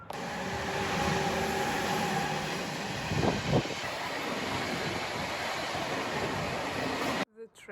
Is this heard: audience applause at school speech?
no